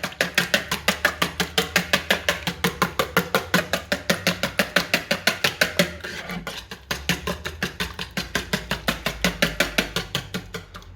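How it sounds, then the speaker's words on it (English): Two eggs whisked briskly in a bowl, producing fast, even, repeated tapping strokes close by that keep a steady rhythm with only a brief pause. "So we've got our 2 eggs here. Just need to whisk those."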